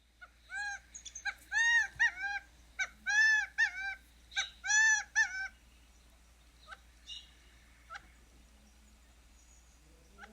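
A Gambel's quail gives its distinctive three- to four-note call, a series of loud, clear, rising-falling calls repeated in quick groups, followed by softer scattered chips and notes in a quiet outdoor setting.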